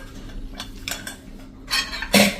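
A stainless steel pressure cooker of cooked dal being opened after three whistles and released pressure, with soft metallic clinks and scrapes of the lid building to a sharper clatter at the end, close and fairly quiet.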